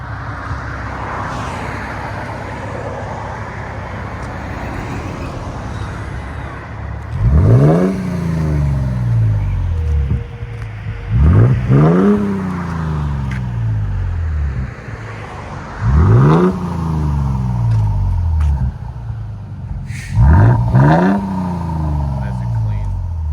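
A 2023 Toyota Tundra with a 3.4L twin turbo V6 and Carven R-Series exhaust with rear resonator is heard outside as four loud revs rise and fall at steady intervals over a low idle rumble.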